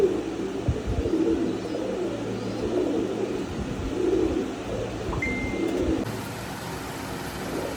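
Imported-bloodline high-flying pigeons coo softly in a loft, a low, murmuring burble that rises and falls over a faint steady background with a distant car.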